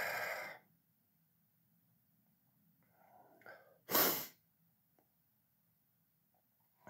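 A man sneezes indoors: the tail of one sneeze opens, followed by quiet breathing and a short inhale, then a single loud, sharp sneeze close to the microphone before silence returns.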